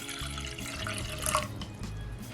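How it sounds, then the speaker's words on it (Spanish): Two cups of water pour into a small pot, a steady close splashing stream with a faint rising trickle over a low background rumble, brief and fairly quiet. "colocar 2 tazas de agua en nuestra ollita"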